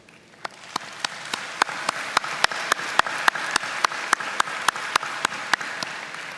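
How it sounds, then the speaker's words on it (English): Applause at a spring college graduation ceremony: a steady wash of many hands clapping, with sharp, evenly spaced loud claps punctuating it roughly every third of a second, fairly close and without any talking. "And you're to be applauded for that"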